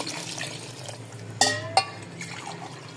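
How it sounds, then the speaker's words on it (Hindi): Glasses of water are poured into a pot of beef yakhni for degi-style pulao. Two sharp, close splashes land a moment apart over a quiet kitchen background, followed by faint trickling. "तो इसके लिए मैं 4 गिलास पानी यानी कि डबल पानी डालेंगे हम"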